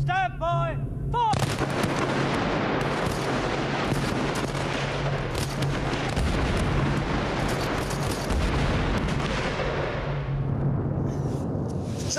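A volley of artillery guns fires all at once, a huge sustained roar of overlapping blasts that rumbles on for about ten seconds before slowly fading, preceded by a brief shouted command.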